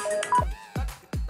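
A mobile phone rings repeatedly with an incoming call, a series of short electronic tones with sharp, falling chirps, fairly loud and heard alone.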